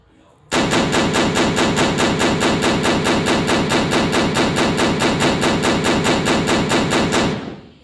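An AA-12 automatic shotgun from a gun simulator fires in a loud, unbroken burst of rapid shots that lasts about seven seconds and then cuts off.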